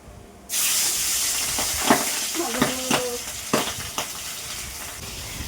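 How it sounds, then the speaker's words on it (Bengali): Pabda fish drop into hot oil one by one, bursting into a loud hissing sizzle after a quiet start, with repeated sharp pops and spatters over the steady fry. "এই দেখো পাবদা মাছ এই যে একটা একটা করে ভেজে নিই"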